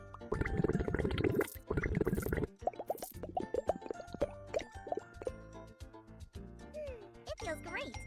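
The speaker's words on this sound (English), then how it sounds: "Pour some bubble bath." Bubble bath glugs and plops into a filling tub in a cartoon cleanup game: a loud burst of pouring followed by bright bubbly drips and pops under game music.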